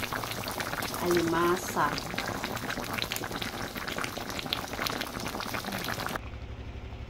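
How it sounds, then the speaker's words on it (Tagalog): Shrimp and jackfruit simmer in coconut milk at a steady rolling boil, a dense continuous bubbling that runs throughout, with a voice speaking briefly over it near the start before the sound cuts off near the end. "Ayan na, pakuluan natin."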